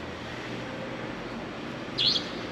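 A faint, low steady background holds one short, clear bird chirp near the end.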